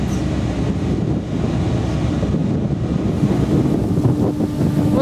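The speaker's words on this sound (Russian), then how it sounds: "Вот едем на фере." Strong wind buffets the microphone aboard a large ferry crossing open water, a loud continuous rushing roar over the low wash of the sea and the vessel, with no voices.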